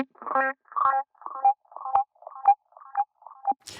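Repeating notes run through a Bubble Echo delay pedal, eight short pitched bursts in a steady rhythm about half a second apart, each trailing its own echo, ending in a brief noisy burst.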